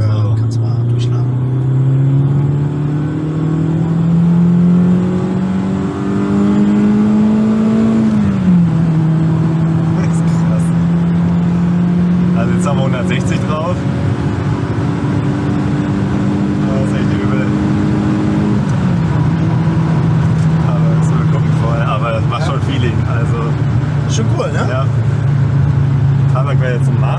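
BMW E30 M3 Sport Evo engine, recorded from inside the car, revs hard under full throttle, its pitch climbing then dropping at gear changes twice. The drone is loud and continuous, with people talking over it.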